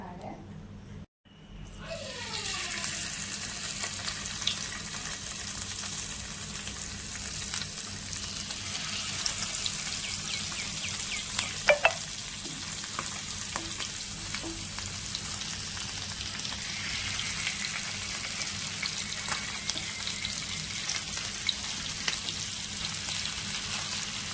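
Steady crackling sizzle of sardines frying in hot coconut oil begins after a brief pause and continues evenly, close and moderately loud, without speech.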